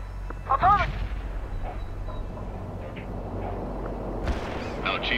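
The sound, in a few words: heavy artillery fire in video game World in Conflict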